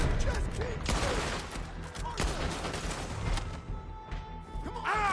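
Rapid gunfire in Red Dead Redemption 2, with many loud overlapping shots and cracks in a chaotic shootout, continuous and close with shouting voices mixed in.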